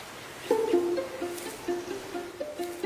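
Native forest birds on Guam call in short, clear whistled notes that repeat several times at a moderate distance over a soft, steady background hiss.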